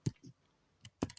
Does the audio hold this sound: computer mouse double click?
yes